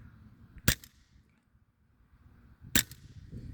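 A CO2 air pistol, reviewed alongside Crosman and Daisy Powerline models, fires two sharp, loud cracks about two seconds apart, each a short broadband snap over quiet background rustle.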